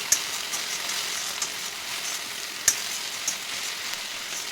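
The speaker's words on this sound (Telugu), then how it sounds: "ఇప్పుడు ఇందులో నేను కొబ్బరి కారాన్ని యాడ్ చేసి ఒకసారి మిక్స్ చేస్తున్నాను" Okra fries in a pan with coconut chili powder as it is stirred in, giving a steady soft sizzle with a few faint scrapes and clicks, close and without talk.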